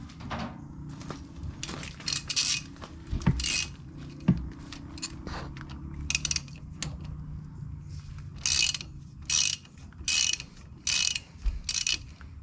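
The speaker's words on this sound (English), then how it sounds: "Go ahead and remove the bottom hex nut bolt." A wrench works the bottom hex nut bolt during portal gear maintenance, giving repeated ratcheting clicks and metallic turns in short bursts with pauses, close and fairly loud.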